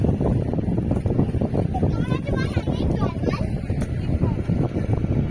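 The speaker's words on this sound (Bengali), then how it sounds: "এখানে বাতাস খুব জোরে বয়সে" Strong wind gusting across Chilka Lake aboard a boat, a loud, constant roar buffeting the microphone, with indistinct voices mixed into the rush.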